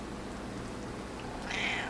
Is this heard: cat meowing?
yes